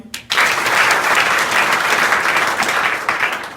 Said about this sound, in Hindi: इसके लिए एक जोरदार ताली